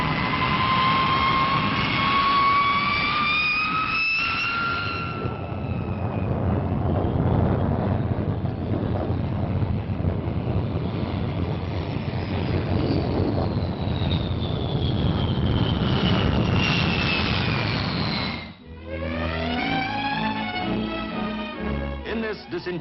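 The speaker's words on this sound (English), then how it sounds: "The RAF's tremendously powerful weapon to come is the Valiant, the new 4-jet bomber" Four-jet Vickers Valiant RAF bomber flying in 1951, a loud sustained roar with rising and falling turbine whine sweeping overhead, broken by a brief dip near the end before a warbling tone returns.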